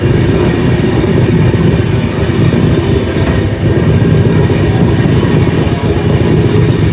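The Poorabiya Express passenger train in India rolls steadily along the tracks toward Moradabad, a loud continuous low rumble with faint rhythmic wheel clatter, close and unbroken throughout.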